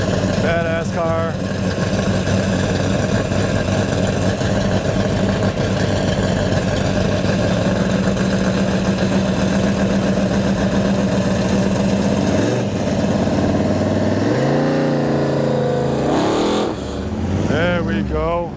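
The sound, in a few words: Mopar muscle car engine idling and revving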